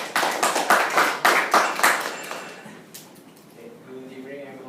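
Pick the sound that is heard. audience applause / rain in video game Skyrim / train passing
audience applause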